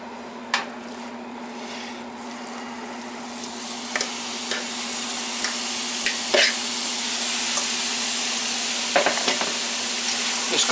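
Beef steak sears in a hot pan for a stew, a steady close sizzle with a constant hum beneath and scattered pops and utensil clicks, no one speaking.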